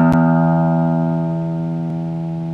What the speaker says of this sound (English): Sixth string, make it sound like this.